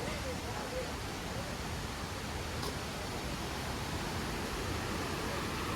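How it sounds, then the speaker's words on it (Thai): Continuous, even roar of falling water at Phlio Waterfall in Chanthaburi, a soft, unbroken hiss that stays constant throughout. "นั่นไมีเสียงน้ำตกแล้ว"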